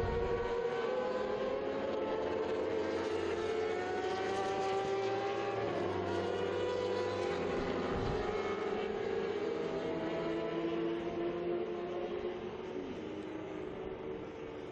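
A pack of racing motorcycles launches at the start of a Stock Open class superbike race in the 2014 RSBK championship, a continuous layered engine roar that holds steady and fades slightly toward the end.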